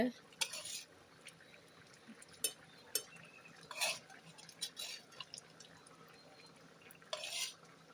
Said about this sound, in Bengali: এখন আমি এতে মাছ দিয়ে দিব